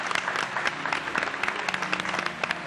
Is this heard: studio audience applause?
yes